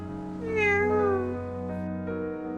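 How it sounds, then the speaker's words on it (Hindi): A hungry cat gives one drawn-out meow, fairly close and clear, with a softer short mew following, over a steady background hum and no talk. "मुझे लगता है इस बिल्ली को भूख लगी है"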